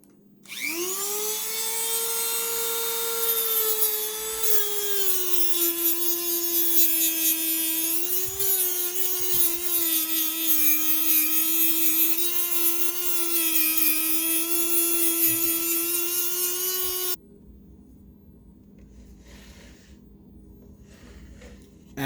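A Dremel rotary tool buffs excess glue off the sole of a Nike Air Yeezy 1 sneaker, giving a loud steady high whine that shifts slightly in pitch as it works, then cuts off abruptly and leaves faint quiet handling noise.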